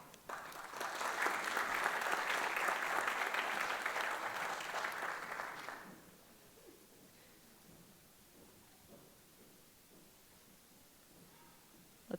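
Audience applause at a university engineering master's hooding ceremony, a steady broad wash of clapping for about six seconds that then stops abruptly, leaving a quiet hall.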